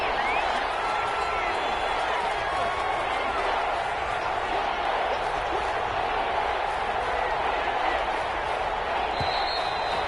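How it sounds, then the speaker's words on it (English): Steady crowd roar from a PS4 American football video game during a Chargers third-down play, a continuous loud wash of stadium noise throughout with no distinct breaks. "The crowd's not doing that O-line any favors."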